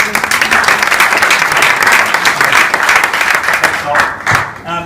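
Room audience at a cryptocurrency launch event applauding a presenter, a dense steady wash of clapping that carries on loudly throughout, then thins toward the end with a few scattered claps and a brief voice.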